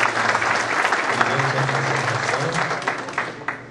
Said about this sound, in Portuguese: Salva de palmas para você